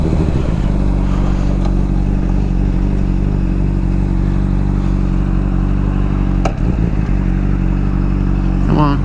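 A Honda CBR 600 motorcycle on a test ride with bad tires and a large rear sprocket, its engine droning loud and steady at close range with a brief dip near the end.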